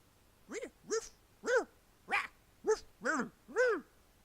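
A dog barks seven times in an evenly spaced series, each bark sharp and fairly close, with quiet gaps between them and no talking.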